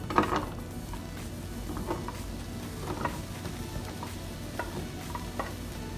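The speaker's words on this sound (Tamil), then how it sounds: "இப்போ எண்ணெய் நல்லா சுட்டுட்டது, வெங்காயத்தை போட போகிறேன்" Red onions fry in hot oil for mutton kothu roti, giving a steady, fairly quiet sizzle with a few soft stirring scrapes and clicks.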